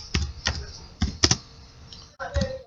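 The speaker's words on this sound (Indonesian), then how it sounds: "Langsung saja kita ketikkan nama instansinya" Quick bursts of typing on a computer keyboard, close and clear, with clusters of key clicks separated by short pauses and a brief final flurry.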